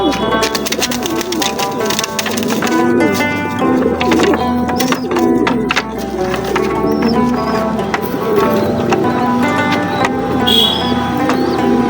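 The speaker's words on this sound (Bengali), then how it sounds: "এই যে কবুতর বাচ্চা" Pigeons and pigeon chicks cooing steadily and close, overlapping soft throaty calls with occasional clicks and clatter in the background.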